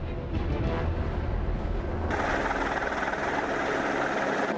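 Helicopter flying over a wildfire, its engine and rotor giving a continuous low rumbling drone, fairly loud and steady, heard alone without talk.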